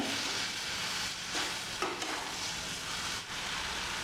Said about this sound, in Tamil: கருவேப்பிலை வதங்குற வரை கிண்டி விடுங்க